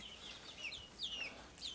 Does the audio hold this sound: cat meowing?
no